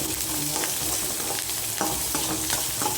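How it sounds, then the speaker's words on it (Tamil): Large onions sizzling and frying in a pan as a tempering, with steady crackle and occasional stirring scrapes close up, no voices. "பெரிய வெங்காயம் தெரிஞ்சு டக்குன்னு தாளிச்சுட்ருவேன்"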